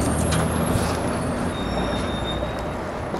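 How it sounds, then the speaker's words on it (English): A dump truck approaches on a road, its engine and tyres making a steady, loud broadband rumble with a hiss of air brakes, continuous throughout, with no voices. "he has a dump truck coming towards me"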